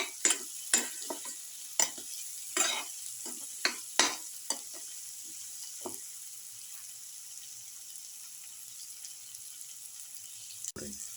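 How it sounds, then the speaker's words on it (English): Egg, bean and rice casserole being stirred and mixed in a pan, with a run of scraping and clinking strokes over the first six seconds, then a quiet stretch and one sharp knock near the end. "Salt and mix properly."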